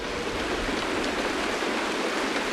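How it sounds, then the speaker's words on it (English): Steady rain pouring down in the game Honkai: Star Rail, a dense, even hiss of falling water that stays loud and constant throughout with no talking. "It's raining!"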